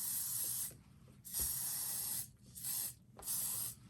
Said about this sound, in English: you just want to spray it with a little bit of your firm hold hairspray